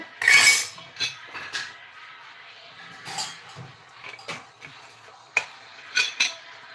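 Khichdi being stirred in a pot, with a ladle clinking and scraping against the metal in a series of short, uneven knocks and taps, fairly close and alone.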